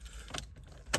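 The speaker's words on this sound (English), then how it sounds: "Key goes in." Volkswagen key sliding into a door lock cylinder, two faint metallic clicks and scrapes close up in a quiet space.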